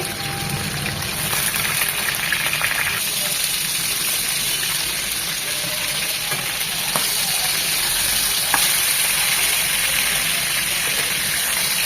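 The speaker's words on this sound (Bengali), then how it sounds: "মাছগুলো আমি সবসময় যে হালকা ভাজাটা দিই তার থেকে আরেকটু কড়া করে ভেজে নেব" Rohu fish pieces deep-frying in hot oil until reddish and crisp, producing a dense continuous hiss and sizzle at steady moderate loudness, without talk.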